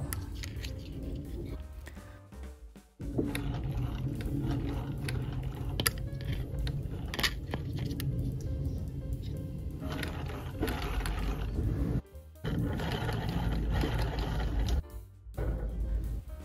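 A 1910 Singer 28K hand-crank sewing machine runs after oiling, giving a steady mechanical whir with ratcheting, gear-like clatter and slight grinding, continuous apart from brief pauses near the three- and twelve-second marks.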